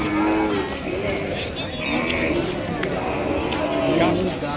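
Calves and cattle lowing at a busy cattle market, moos rising from a dense crowd din with people talking throughout.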